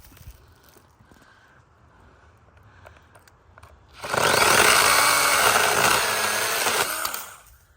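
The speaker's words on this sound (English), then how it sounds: "I'm going to cut along here as far as I can and see if that uses all the battery" A Ryobi One+ 18V cordless pruning saw cuts through a branch outdoors. Quiet handling noises come first, then a loud, steady buzzing rasp of the blade biting through wood for about three seconds before it winds down.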